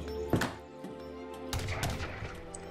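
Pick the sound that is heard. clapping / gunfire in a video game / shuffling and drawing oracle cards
gunfire in a video game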